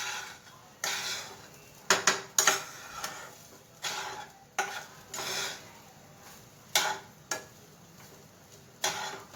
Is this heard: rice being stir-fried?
yes